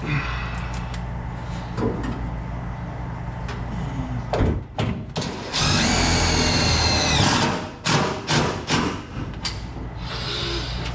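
A power drill drives screws into the metal at the back of a 1967 Chevrolet C-10 cab, with short whirring bursts, a longer run in the middle, and clanks and knocks between them, close in a garage.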